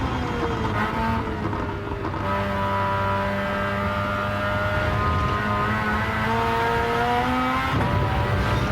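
A rotary-engine race car in Gran Turismo 7 screams at high revs, with rising and falling engine pitch through shifts and a corner, steady and loud with no talk.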